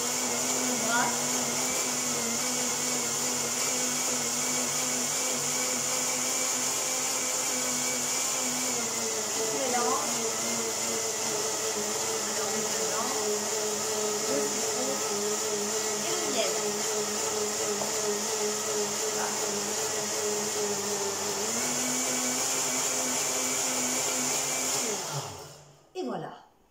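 Kitchen blender mixing ginger, lemon and honey for shots, a loud steady whirring motor running continuously for about twenty-five seconds with slight pitch shifts as the mixture churns, then winding down.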